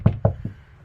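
Three sharp knocks on a solid interior bedroom door in a 2021 Tracer 29QBD travel trailer, the first two hard and evenly spaced, the third softer, close and dry with no talking.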